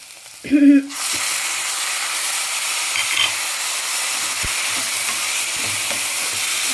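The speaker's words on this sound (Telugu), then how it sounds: "ఇప్పుడు టమాటాలు వేసుకోవాలండి" Two large tomatoes drop into onions already browned in a pan for okra tamarind stew, a brief clatter and burst giving way to a loud, steady sizzle with occasional soft scrapes.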